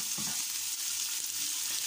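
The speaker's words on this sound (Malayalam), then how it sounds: "അപ്പോൾ ഇതിലേക്ക് സവാള ഇട്ട് കൊടുക്കാം." Three medium sliced onions frying in a pan, a dense, steady sizzle with faint stirring scrapes, close and constant throughout.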